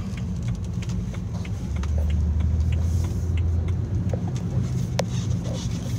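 Steady interior rumble of a car slowly driving back into a lot after a test drive, smooth and quiet with occasional light ticks and rattles, no talking.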